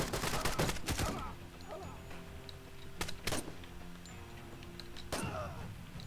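Bursts of Mark 17 rifle fire in a video game, rapid clusters of shots at the start and again near the middle and end, with quieter gaps of game ambience between them.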